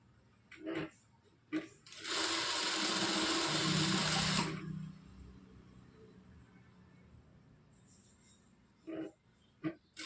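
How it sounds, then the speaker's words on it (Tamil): A sewing machine runs in one steady burst of about two and a half seconds, stitching a joined cross piece onto a blouse at a quarter-inch seam. Brief handling knocks and rustles of fabric come before and after it. "இந்த மாதிரி ஜாயின் பண்ணதுக்கப்புறம் நம்ம ப்ளவுஸில் வந்து 1/4 இன்ச்சில் இந்த மாதிரி வச்சு தைச்சிக்கலாம்"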